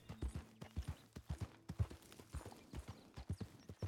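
Horse hooves clip-clop on the ground in the Red Dead Redemption 2 video game, a steady run of soft, irregular thuds from more than one horse, fairly faint and heard alone.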